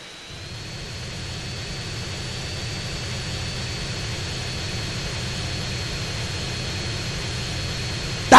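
Steady airplane jet engine roar in GTA San Andreas Definitive Edition, a constant broadband whine and rumble holding level throughout with a faint high tone, ending in an abrupt loud burst.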